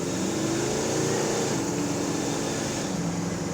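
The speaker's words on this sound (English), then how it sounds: "All right, let's test out the acceleration." 1967 Pontiac GTO accelerating in third gear, a steady in-cabin engine roar with a faint rising tone mixed into road and wind noise, moderately loud with no talk.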